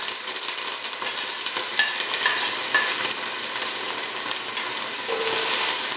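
Shallots and garlic fry in hot oil in a pan for a fish stew, giving a continuous soft sizzle and crackle, with occasional stirring scrapes and brief pops, no voices.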